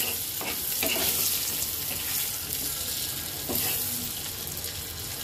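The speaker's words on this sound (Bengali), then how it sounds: "আলুটাকে আমি একটু সুন্দর করে হালকা ভেজে নেব।" Potato chunks lightly frying in oil for a Bengali egg curry, a steady sizzle with spatula scrapes and stirring clatter now and then, close and even, no voices.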